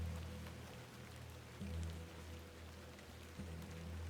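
Rain falls steadily in The Excavation of Hob's Barrow, a soft continuous patter with a low background hum and a couple of faint thuds, with no talking.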